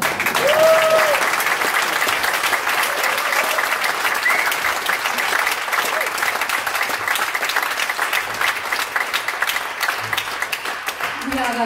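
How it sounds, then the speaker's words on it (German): A concert audience applauds after a performance of Prokofiev's Peter and the Wolf, steady dense clapping that carries on throughout and fades slightly toward the end. "akustischen Applaus"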